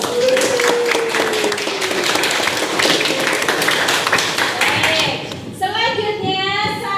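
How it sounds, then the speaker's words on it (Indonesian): A classroom of schoolchildren claps for three classmates, a dense burst of hand claps and chatter lasting several seconds before thinning out as a few young voices speak near the end. "tepuk tangan untuk 3 teman kalian"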